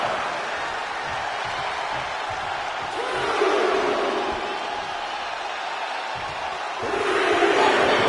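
Arena crowd in a WWE 2K wrestling video game, a sustained roar of cheering that swells louder twice, around the middle and again near the end, with no commentary voices.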